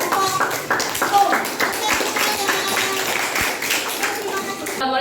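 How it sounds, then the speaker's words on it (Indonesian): A classroom audience claps for a student group presentation, a dense patter of close, moderately loud clapping that continues steadily with voices mixed in. "Beri tepuk tangan untuk kelompok O."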